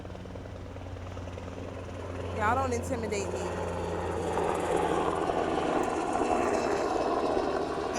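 A helicopter flies low right over a beach, a steady loud rotor and engine drone that builds and holds throughout, while a person speaks over it.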